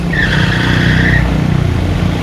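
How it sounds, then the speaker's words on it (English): Noisy car passing close by on a road in England, a loud rumbling engine roar with a brief high whine or squeal in the first second, heard alone without talk. "Noisy car, go away."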